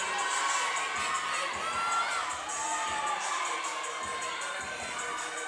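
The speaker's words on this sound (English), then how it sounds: "This crowd is fired up. There's not a louder crowd than in this division right now." A loud indoor crowd at a fitness competition's kettlebell swing event cheers and shouts continuously, with excited whoops layered over thumping footfalls, filling the space close at hand.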